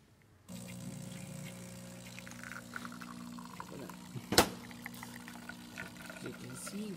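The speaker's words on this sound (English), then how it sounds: "You can see the water coming out there." Water trickles and runs from a DeLonghi Magnifica XS espresso machine fitted with a new water tank after a tune-up, a quiet steady flow under a low machine hum with a sharp click midway.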